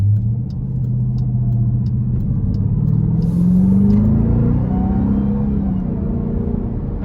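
A 2023 Dodge Durango SRT Hellcat with a supercharged 6.2 V8 pulls out of a corner, its engine note rising steadily in pitch under a deep, loud interior rumble, with faint ticking in the background.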